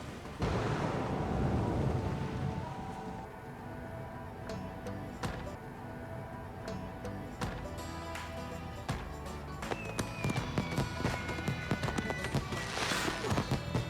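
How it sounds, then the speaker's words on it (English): Explosions and gunfire in the Far Cry 5 video game: a loud burst at the start, then a dense run of sharp blasts and crackling debris that stays loud throughout. "Explosion."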